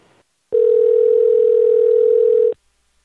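A loud steady telephone tone for an incoming call rings as one unbroken beep of about two seconds, starting and stopping cleanly, with silence on either side.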